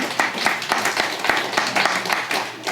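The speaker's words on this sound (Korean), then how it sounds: "박수 환영하겠습니다." A church congregation claps to welcome a missionary's daughter at a Sunday service, a lively, close burst of many hands with distinct individual claps and a faint voice underneath.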